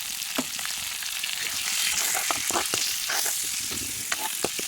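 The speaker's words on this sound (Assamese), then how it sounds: "ধুনীয়াকৈ ফ্ৰাই কৰি লওঁ অকণমান টাইম" Fish seasoned with turmeric and salt frying in a pan, a bright continuous sizzle with crackling pops scattered throughout, close up and steady, no voices.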